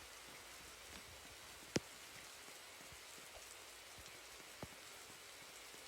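Continuous rain in the Sol's RNG video game, a constant patter on surfaces, broken by one sharp click early and a fainter tick later.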